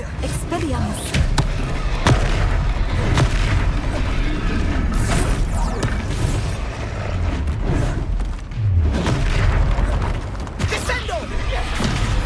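Expelliarmus spell effect in Hogwarts Legacy, a burst of booming, thudding magical impacts layered over dense game sound, with a player talking throughout.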